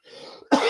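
A single sharp, loud cough bursts out abruptly after a moment of quiet, close to the microphone.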